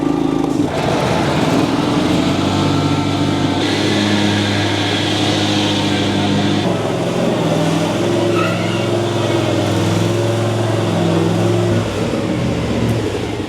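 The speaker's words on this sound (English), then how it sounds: "Then I full throttled it and engaged the blades and it didn't die." A Cub Cadet ZTX5 60-inch zero-turn mower runs at full throttle with its blades engaged, a loud, steady close engine roar with a whirring drone that holds for the whole stretch.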